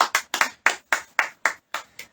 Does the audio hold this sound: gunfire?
no